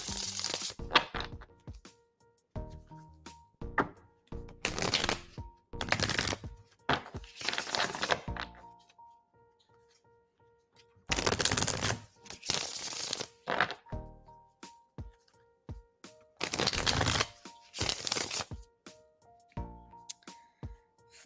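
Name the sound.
tarot cards being shuffled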